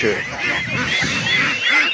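Several ducks calling together on a duck breeding farm, a busy stream of overlapping honking quacks and chirps that carries on steadily throughout.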